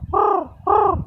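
A voice mimics a crow's caw twice, two loud, close, drawn-out calls separated by a short pause, with no other sound around them.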